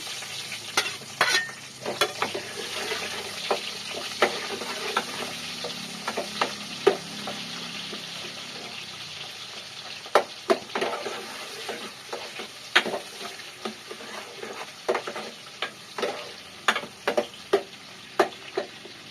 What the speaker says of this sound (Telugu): నూనె అయితే వేడైపోయింది. ఫస్ట్ అయితే ఉల్లిపాయలు వేసుకుంటున్నాను.